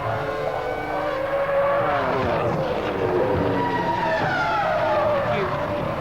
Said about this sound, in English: You get a clear shot at listening at Michael Schumacher's car.